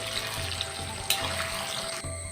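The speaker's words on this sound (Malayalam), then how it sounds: "എണ്ണ നല്ലതുപോലെ ചൂടാകുമ്പോൾ നമ്മൾ അരിഞ്ഞു വെച്ചിരിക്കുന്ന ചക്ക ഇട്ട് കൊടുക്കാം" Chopped jackfruit frying in hot oil in a home kitchen, a steady close hiss and crackle of sizzling running throughout with a brief sharper pop midway.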